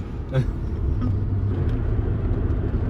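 Interior of a neglected, long-stored exotic sports car travelling at around 140 km/h, with a loud, steady low engine and road rumble and a few brief knocks, no voices.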